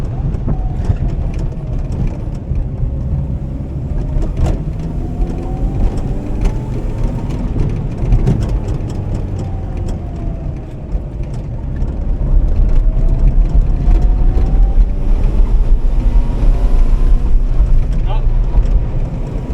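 Yugo car driving with its engine straining and sputtering under throttle, a steady low rumble that wavers and surges, loud and close with road noise throughout and a person talking over it.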